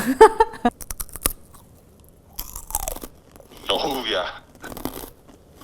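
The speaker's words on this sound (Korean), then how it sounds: "씹는 소리를 들려주는 건 또 생애 처음이네" Loud, close crunching bites on crisp fried lotus root chips, in short bursts with pauses between, with a person exclaiming and laughing.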